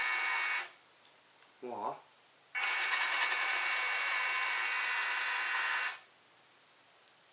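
A WPL D12 Suzuki Carry RC truck's small electric motor is run on throttle, giving a steady high-pitched whine for about three seconds after a shorter earlier burst, close by, with a brief exclamation from a voice between.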